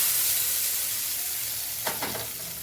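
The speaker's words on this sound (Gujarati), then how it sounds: "વઘારને આપણે ઉપરથી ઉમેરી દઈશું" A hot tempering of mustard seeds, cumin and asafoetida sizzles loudly as it is poured over Kathiyawadi tomato chutney, a dense steady hiss with a brief burst of stirring scrapes near the end.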